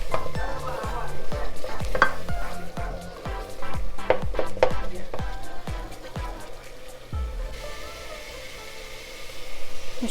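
Garlic frying in a pan while being stirred, a soft sizzle broken by a quick run of sharp, regular scrapes and taps of a utensil against the pan, pausing briefly and then picking up again.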